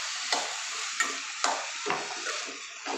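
Beans sizzle steadily in a pan with salt, a bright frying hiss broken by about five scraping stirs of a utensil; close and moderately loud, with no one talking.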